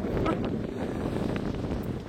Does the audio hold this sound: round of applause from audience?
no